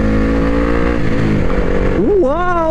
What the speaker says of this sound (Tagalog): Lakas ng motor na yun.